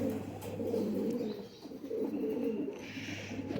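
Kasni pigeons, a male Kasni paired with a Firozpuri female, cooing softly and steadily in low repeated coos.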